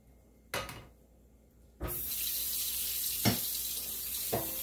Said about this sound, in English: I'm going to fill the water up to here.